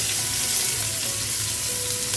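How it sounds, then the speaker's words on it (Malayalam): Onions sizzling in oil in a pan with bay leaves, cinnamon, cloves and cardamom for mutton masala, a steady, close, hissing fry that stays loud and even throughout. "സവാള ഇടുകയാണ്."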